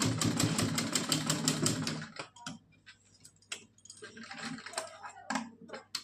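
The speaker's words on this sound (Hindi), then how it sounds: "यहाँ पे कर देंगे अच्छे से डबल सिलाई।" A sewing machine runs a fast, even stitching burst on a cotton doll dress for about two seconds, then stops, leaving scattered clicks and handling noises close by.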